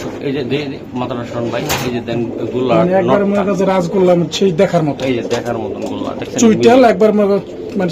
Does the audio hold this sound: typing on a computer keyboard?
no